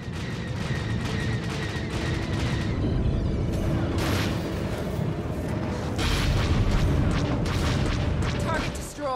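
Starship weapons firing and exploding in a space dogfight in Star Wars: The Old Republic, dense repeated booms and blasts over a constant loud rumble, with voices speaking throughout.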